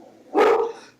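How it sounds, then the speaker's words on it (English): A single dog bark heard indoors during a video conference, one short, fairly loud woof over a quiet room background. "that's my dog"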